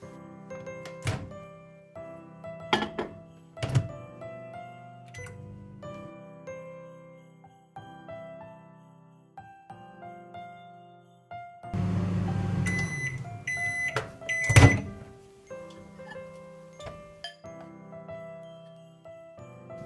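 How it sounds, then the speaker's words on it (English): A microwave oven runs while softening dark chocolate for Christmas Yule log cupcakes, with its door clunking, keypad beeps, a steady hum through the middle and a final chime, heard close in a quiet kitchen. "we need to place dark chocolate into the microwave for 20 to 30 seconds"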